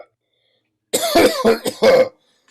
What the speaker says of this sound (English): He coughs and swings his cane to clear the smoke.